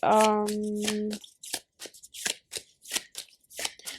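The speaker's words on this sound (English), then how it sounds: "we're shuffling between decks" A quick riffle of tarot cards is followed by a series of short, crisp shuffling snaps and slaps, close by, with a brief tonal sound at the start.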